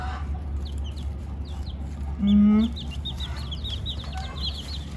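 Chickens cluck and chirp softly close by, with a brief low voice-like sound in the middle and a steady hum underneath.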